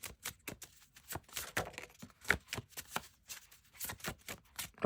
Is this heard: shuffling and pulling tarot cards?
yes